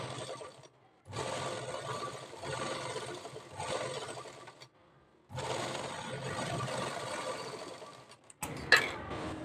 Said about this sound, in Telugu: ఇప్పుడు ఫస్ట్ ఇలా లోపలికి ఒక 1/2 ఇంచు లోపలికి ఫోల్డింగ్ చేసుకొని కుట్టుకోవాలి.